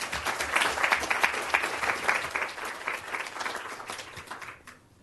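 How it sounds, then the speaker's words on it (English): A room of attendees breaks into a round of applause welcoming five new hires, dense clapping sustained loud and close for about four seconds before tapering off abruptly at the end. "Round of applause, please."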